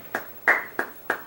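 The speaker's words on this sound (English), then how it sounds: "That was me clapping" Four sharp hand claps at a steady, slightly uneven pace, close and crisp in a quiet room.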